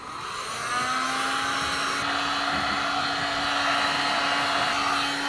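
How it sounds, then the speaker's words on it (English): A heat gun blows over vinyl wrap, a steady close airy whoosh with a motor whine that ramps up within the first second and holds evenly throughout. "we're gonna run over that cut with a heat gun"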